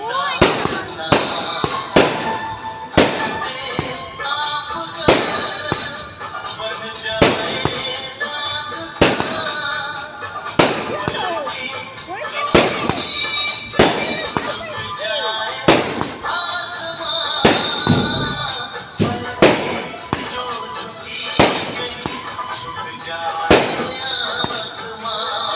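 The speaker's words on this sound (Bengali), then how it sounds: "চলো দেখো বন্ধুরা কত বাজি ফাটছেন" Fireworks and firecrackers burst again and again from a rooftop during a celebration, with loud, sharp bangs at frequent irregular intervals. Voices can be heard beneath the bangs.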